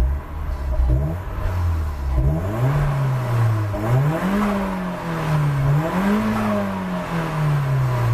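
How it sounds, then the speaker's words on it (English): A BMW E34 518i with a turbo conversion and aftermarket engine management revs repeatedly, the engine note rising and falling in several smooth sweeps, close and loud with no talking. "it revs nice"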